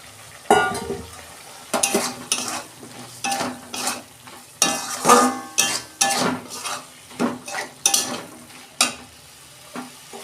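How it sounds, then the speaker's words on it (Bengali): Soybean chunks and potatoes tossed into hot spiced oil in a pan, loud close clattering and scraping of a spatula in irregular bursts over a frying sizzle. "মশলাটা কষানো হয়ে গেছে, তেল ছেড়ে গেছে, আমি সয়াবিন আলুগুলো দিয়ে দিচ্ছি"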